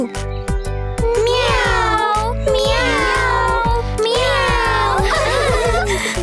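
Children's voices stretch out a series of long, wavering meows, three drawn-out imitations of a cat in a row, loud and close with musical backing.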